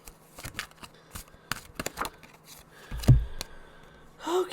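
A run of quick papery flicks and riffles as a deck of tarot cards is shuffled, close by, with a soft bump and rustle near the end.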